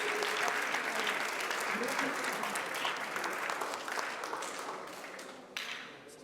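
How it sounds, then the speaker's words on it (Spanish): An audience at a conference on aging hydraulic infrastructure claps loudly and continuously, a dense even applause that slowly tapers toward the end. "Un aplauso."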